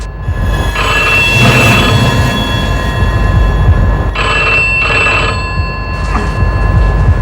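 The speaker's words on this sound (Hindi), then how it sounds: "घर पहुंचते ही फोन का बजना शुरू" Telephone ringing at home at night, loud electronic rings in bursts with gaps, repeating over a steady low background rumble.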